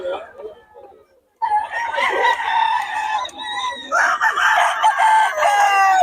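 A Boston Sweater gamecock crows close and loud, a harsh rising-and-falling call repeated a few times after a brief gap, with faint clucking and low background noise around it.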